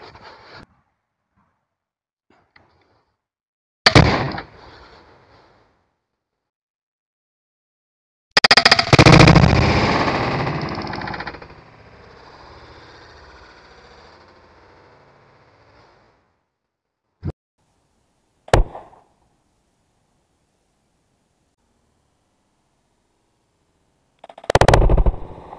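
A 190 lb Cobra Adder Venom Extreme crossbow fires at an explosive deodorant can. There are several sharp, isolated cracks, then a loud blast that trails into a long, fading roar, with quiet stretches between the shots.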